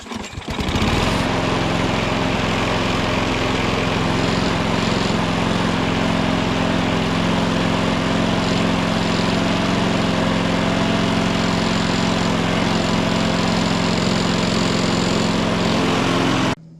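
A small engine runs steadily after carburetor cleaning and a tank of fresh fuel, a loud, even droning idle that starts abruptly and holds for the whole stretch without speech.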